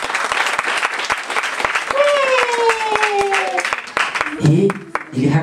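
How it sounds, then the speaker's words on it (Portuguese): Audience applause for children at a children's festival, a steady crackling wash of many hands clapping close by, with voices calling out over it and a rising whistle-like tone in the middle. "Aplausos para as crianças."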